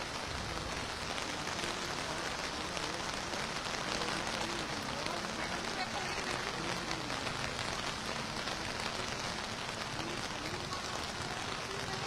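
Heavy rain pours steadily over Kochi city, a faint, even hiss of water striking surfaces with no break.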